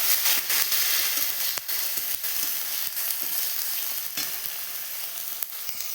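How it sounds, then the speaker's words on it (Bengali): Spices frying in a pan for egg curry, a constant close crackling sizzle with sharp spatula knocks and scrapes scattered throughout. "মশলাটা দিয়ে ভালো করে কষে নেব।"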